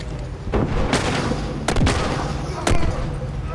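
Bombs exploding in the video game The Last of Us, several loud sharp blasts and booms over a rumbling, busy battle background.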